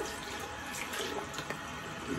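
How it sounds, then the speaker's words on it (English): Hands rinsed under a running tap at a sink, a soft steady stream of water splashing for a couple of seconds, faint and close with no talking. "Let me just rinse my hands."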